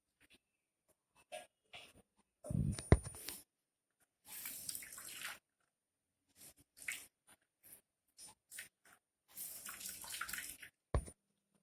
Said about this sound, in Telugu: బూడిద గుమ్మడికాయ తురుముని నీళ్ళంతా పోయేంత వరకు.